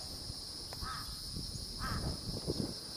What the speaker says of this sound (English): That's all crows now.